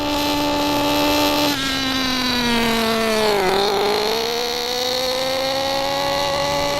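A Redcat RC nitro car engine, richly tuned, runs steadily with a buzzing, harmonic drone whose pitch dips and recovers midway through, loud and close with no voices.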